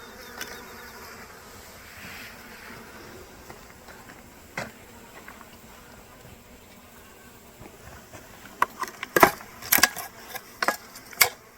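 Honeybees buzz softly and continuously nearby as they are moved along with their queen, with a few sharp knocks and clatters near the end.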